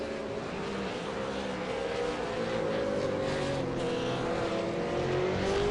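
V8 Supercars lapping Twin Ring Motegi in an online racing game during qualifying, a steady high engine drone with rising pitch as a car accelerates, continuous and fairly close, with no speech.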